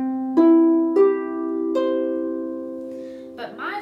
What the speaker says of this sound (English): We normally play the harp by plucking the strings.